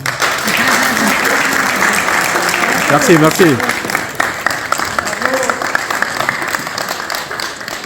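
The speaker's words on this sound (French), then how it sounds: "Allez-y, applaudissez pour vous." A forum audience at a Guinean community event breaks into sustained, dense clapping that fills the room, while a speaker's voice briefly talks over it.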